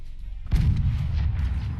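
Mortar cannon fires in a video game, a sudden heavy boom about half a second in that rolls into a sustained low rumble, close and loud with no talk.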